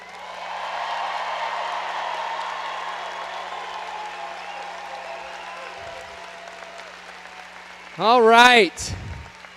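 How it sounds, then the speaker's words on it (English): At a 2022 high school graduation ceremony, a large crowd applauds the graduating class in a broad, somewhat distant wash of clapping that fades before someone speaks briefly at the end. "Let's give one more round of applause to the class of 2022."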